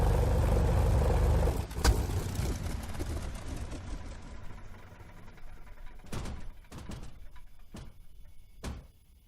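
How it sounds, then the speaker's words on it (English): A TF-51D aircraft engine in a VR flight simulator game cuts off after landing: a loud, close, low rumbling drone drops away and winds down into a fading whir, followed by several sharp cockpit clicks spaced about a second apart. "Set the fuel mixture to idle cutoff to shut down the engine."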